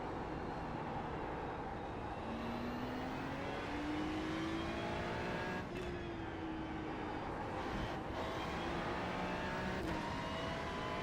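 A race car in a sim racing game at Spa runs steadily throughout, its engine tone rising and falling through shifts, with tyre noise beneath it and no talk.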